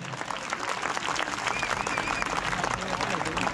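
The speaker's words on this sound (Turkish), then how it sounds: "Şöyle canı yürekten bir alkış alabilir miyiz çiftimize?" Guests at a Turkish wedding ceremony applaud the couple, a dense, steady round of clapping from a crowd with voices and a shrill whistle mixed in.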